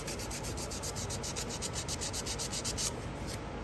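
A pen blank spinning on a lathe is sanded with 180 grit sandpaper, giving a steady, close, continuous rubbing hiss with a faint rhythmic pulse from the rotation.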